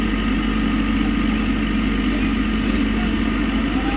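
A tractor engine idles in a steady, loud low rumble that holds unchanged throughout, with people talking in the background.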